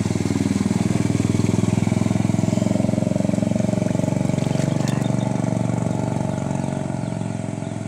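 A loud motorcycle engine runs steadily close by, a constant low throbbing drone that eases slightly near the end.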